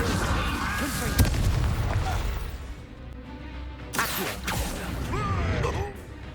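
Booming Confringo blasting-spell explosions in Hogwarts Legacy, a few heavy impacts with whooshes and creaking debris mixed into a busy combat soundscape.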